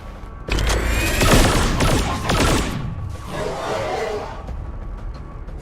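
Gunfire from a soldier shooting in XCOM 2: War of the Chosen, a loud, dense burst of rapid shots with heavy thuds that then settles into a steady rumble of battle noise.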